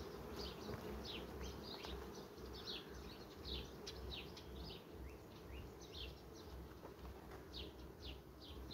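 Honey bees buzzing at an open hive during nest inspection, a dense continuous hum with many individual bees whining close past throughout, steady and fairly loud with no talking.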